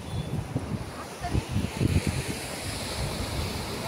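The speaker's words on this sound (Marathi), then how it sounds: "किती छान आवाज येतोय ना आता खळखळ खळखळ पाण्याचा।" Sea water sloshing and splashing beside a boat off Devbag–Tarkarli beach, a steady rushing wash with wind buffeting the microphone, fairly close and continuous throughout.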